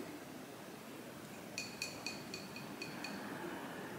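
Hard plastic water bottle clinking with a glassy ring, a quick series of about six light bright taps close by in a quiet room.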